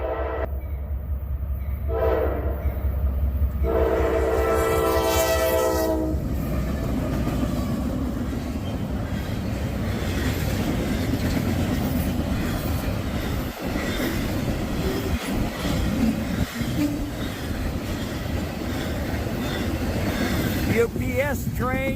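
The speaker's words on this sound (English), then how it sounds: "Here's train 269 coming on by us here." Freight train 269 rolls past close by, a horn blaring at the start before the steady roar of wagons, rattling wheels and occasional squeals and clanks carry on for the rest of the passage.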